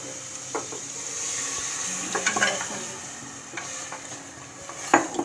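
Goat trotters frying in a little oil in a pot, a soft continuous sizzle under intermittent scraping and light clinks of a spoon stirring, close up and fairly quiet, with no talk.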